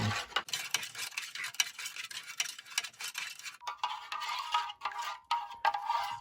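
Spoon stirring 1990s MRE meatballs in spicy tomato sauce inside a pouch, with repeated scraping and squelching strokes in an uneven rhythm, close and fairly quiet, with no voices.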